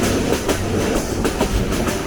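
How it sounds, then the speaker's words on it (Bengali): A passenger train races through the dense Lawachara forest, its wheels beating a close, loud, rhythmic clickety-clack over rail joints under a steady rumbling roar, with no talk. "ঘন সন্নিবিষ্ট বনের মধ্য দিয়ে দুরন্ত ট্রেন ছুটে চলছে।"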